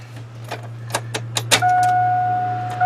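Car door-open warning chime in a Chevy Suburban, a steady electronic tone that sounds after a few clicks and jingling keys and holds on through the rest of the moment.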